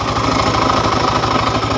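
A second-generation Yamaha Cygnus fuel-injected scooter engine idles close by with an abnormal noise: a steady, throbbing idle with a fast, regular knocking pulse running through it, heard alone.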